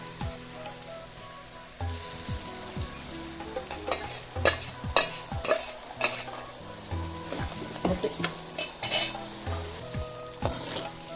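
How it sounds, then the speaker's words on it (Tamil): Egg frying in a pan for restaurant-style egg fried rice, with softened onions, sizzles steadily while a utensil scrapes and stirs in repeated close, irregular strokes; no one speaks. "முட்டை ஊற்றி நல்லா வதக்கலாம்"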